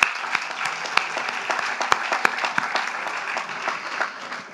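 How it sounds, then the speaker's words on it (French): Sustained applause from an audience at a metropolitan council meeting, dense steady clapping with a few sharp louder claps standing out, continuous throughout. "Je vous applaudis."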